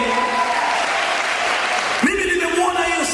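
Church congregation at a sermon breaks into loud, steady applause, joined partway through by high, wavering ululation cries rising over the clapping.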